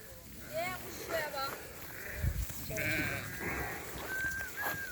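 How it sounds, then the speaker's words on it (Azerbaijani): Brown sheep and their lambs bleat in short wavering calls, several overlapping voices at close range, while someone talks over the flock. "Bax bu qomral qoyunun balası bax budur."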